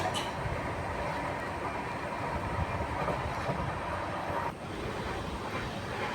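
Steady rumble and rattle of a passenger train heard from inside a carriage, a constant dense roar with faint rail clatter that holds at one level throughout, with no voices.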